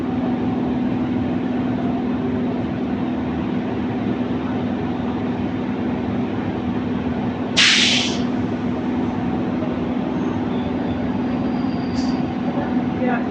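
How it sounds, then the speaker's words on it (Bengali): A local train runs out of Mecheda toward Kolaghat with a steady rolling rumble and a droning hum, broken once by a sharp hiss of air and a faint brief squeal. "তো মেচেদা থেকে আমাদের ট্রেন ছেড়ে বেরিয়ে গেল।"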